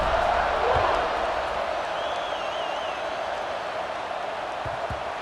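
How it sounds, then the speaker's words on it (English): Stadium crowd noise in a college football video game, a steady broad roar of cheering that is slightly louder at the start and holds evenly throughout, with a faint whistle-like tone partway through. "this crowd is feeling themselves after that last drive"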